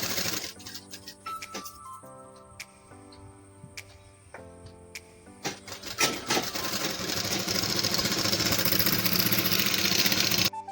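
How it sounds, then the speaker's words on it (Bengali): A sewing machine stitches both side seams of a nightie, its needle running in short bursts with rhythmic mechanical ticking, then a steadier, louder hum of continuous sewing toward the end, close and without speech. "এইভাবে আমি দুদিকটাই সেলাই করে নিচ্ছি।"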